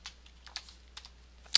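Keystrokes on a computer keyboard while someone types game-engine code in Java: a few scattered soft clicks, close and fairly quiet, ending in one sharper tap, with no talking.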